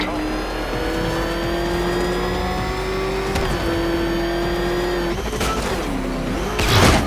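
A car engine in Batman: Arkham Knight holds a sustained, droning rev with steady pitch that shifts briefly, ending in a louder burst of revving and road noise.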